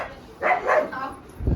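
A dog gives two quick, close barks at a family home, with voices nearby.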